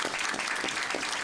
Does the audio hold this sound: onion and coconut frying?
no